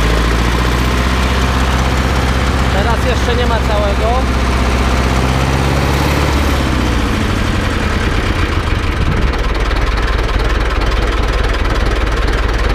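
A cold Ursus C-360 tractor engine, lightly smoking, runs loud and close at half throttle with a heavy low rumble that settles lower partway through, while someone talks over it.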